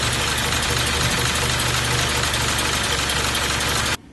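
A 1941 Plymouth car engine idles steadily close to the microphone, a rough, even mechanical rumble that runs without a break and stops abruptly at the end.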